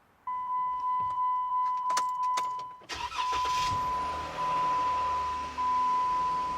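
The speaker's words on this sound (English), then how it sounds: "now we're gonna start the Jeep to check for any oil leaks" A Jeep engine starting after an oil change: a key-on chime and clicks, then the starter cranks briefly and the engine catches, settling into a steady close idle while a tonal chime keeps sounding.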